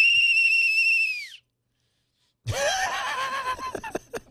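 A hand-held whistle blows a sustained shrill tone for over a second, then a short silence, then another wavering whistle blast with laughter and chuckling around it in a studio setting.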